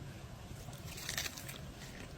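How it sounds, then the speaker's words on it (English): Crunchy food bitten during outdoor cooking, giving a brief crisp crackling crunch around the middle of a low, steady background. "You can hear the crunch."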